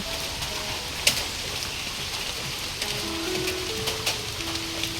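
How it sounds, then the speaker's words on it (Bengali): A rain shower falls on trees outdoors, making a steady soft patter of drops with occasional sharper drips over a constant wash of hiss. "এক পশলা বৃষ্টি"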